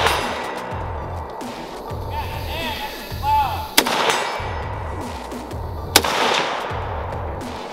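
Rifle shots from a SOCOM 16 in an EBR chassis ring out outdoors, two sharp loud cracks a couple of seconds apart over a steady background of rhythmic low rumbling and chirping birds.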